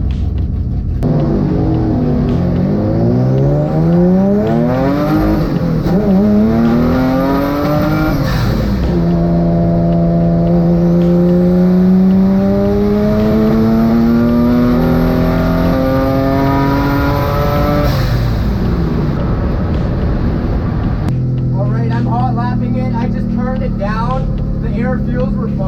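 A twin-engine Mazda MX3 race car accelerates hard, its loud engine note climbing in pitch through repeated revving sweeps, close and continuous for the whole stretch.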